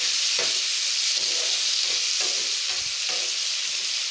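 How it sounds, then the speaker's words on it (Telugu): Chopped tomatoes fry in a pan with cumin and fenugreek, giving a steady close hiss and sizzle with occasional soft scrapes of stirring throughout. "కట్ చేసుకున్న టమాటాలు కాస్త వేయించుకోవాలి"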